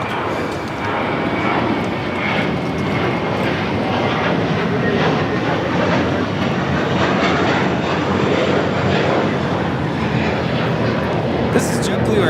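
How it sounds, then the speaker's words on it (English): A JetBlue Airways Airbus A321 takes off at LAX, its jet engines building into a broad, sustained roar that holds steady throughout, with people talking faintly nearby. "This is JetBlue Airways 1700 taking off to Fort Lauderdale on the A321."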